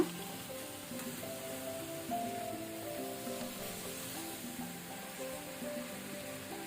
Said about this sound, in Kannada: ಇದನ್ನೀಗ ಲೋ ಟು ಮೀಡಿಯಂ ಫ್ಲೇಮಲ್ಲಿ ನಾವು ಸ್ವಲ್ಪ ಕಲರ್ ಚೇಂಜ್ ಆಗೋ ತನಕ ಫ್ರೈ ಮಾಡ್ಕೊಳ್ಳುವ